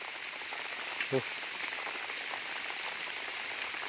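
Rain falling in a forest during a heavy downpour, a soft continuous hiss of drops on leaves, with one brief knock partway through and no clear talk over it.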